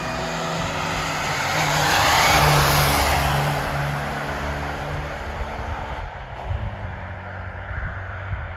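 A 1996 Austin Mini British Open with a 1275 cc engine drives along, its small engine humming steadily under a broad wash of road and tyre noise that swells and then eases.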